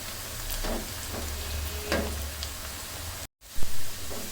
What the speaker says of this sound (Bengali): ভাজা হবে এখন ভেজে নিচ্ছি পেঁয়াজটা বাদামি কালার হওয়ার এক পর্যন্ত